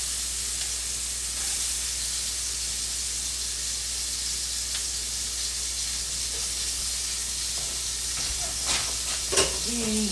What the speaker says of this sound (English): I thought I would just cut it into my skillet